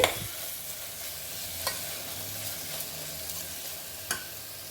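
Vegetables frying in masala while being stirred for pudina rice, a quiet steady sizzle with occasional spoon scrapes and a couple of louder clinks against the pan.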